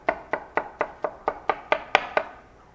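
A utensil knocks steadily against a bowl while mixing a chocolate pudding base, about ten evenly spaced sharp taps over a few seconds, close and clear with no talk.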